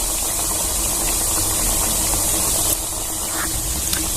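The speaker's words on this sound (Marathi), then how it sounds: "कमी गॅसवर आपल्याला छान असं तळून घ्यायचं" Wheat flour biscuits frying in oil on a low gas flame make a loud, continuous hiss like spray. It holds steady throughout, with a slight drop near the end and no voices.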